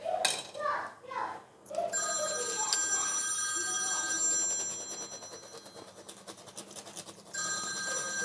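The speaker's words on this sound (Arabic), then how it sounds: "تليفون" A telephone rings repeatedly with a bright, sustained electronic tone in a kitchen while chicken and cheese croquettes are being prepared, with a voice and background chatter early on.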